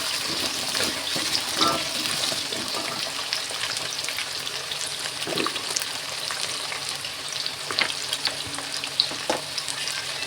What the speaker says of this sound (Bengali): আলুগুলো সব দিয়ে দিয়েছি, এবার নেড়ে ছেড়ে দেবো।